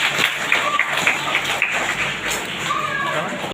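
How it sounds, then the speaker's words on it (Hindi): Schoolchildren in a classroom clap for the winning classmates of an oral competition, a dense, steady patter of many small hands lasting throughout, with a faint voice or two mixed in. "तालियां बजाइए इनके लिए।"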